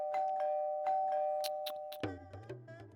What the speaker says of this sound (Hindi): साहब डोरबेल बज रहा है।